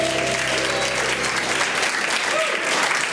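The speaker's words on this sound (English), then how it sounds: "Give it up for Canute, ladies and gentlemen" Dense, steady applause from an audience at a live improv comedy show fills the whole stretch, loud and continuous without a break.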